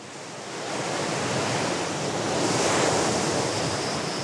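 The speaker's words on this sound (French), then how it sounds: "Les vagues déferlent les unes après les autres sur la plage" Pacific Ocean waves crash on a Hawaiian beach in winter, a steady, close, loud wash of surf that swells and holds with no voices.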